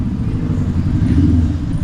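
A motor tricycle rolls along a street, its small engine giving a steady, fairly loud low rumble that swells slightly as it passes close by, with no talking.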